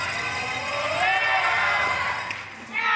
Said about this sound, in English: And you can already hear the crowd